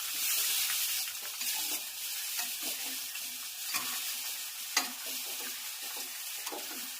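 A sesame-seed tempering for patra crackles and sizzles in hot oil with a bright continuous hiss, broken by occasional stirring scrapes, close up and without speech.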